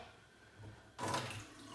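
Cold water tap in an abandoned house in the Arctic region, silent and quiet at first, then water suddenly gushes out partway through and keeps running at a moderate, close splash.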